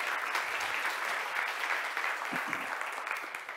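A hall audience at the MTL Tech Awards 2023 in Montreal applauds the jury members. The clapping is steady, dense and sustained throughout, fairly soft and unbroken by speech.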